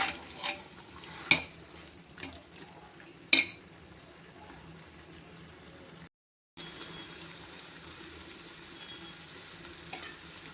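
Mutton biryani cooks in a pot, with a low continuous sizzle broken by a few sharp clanks of stirring, heard up close for about ten seconds with one brief gap.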